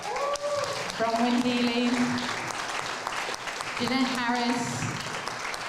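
An audience at a live book launch claps steadily in a continuous wash while someone speaks over it, reading out names.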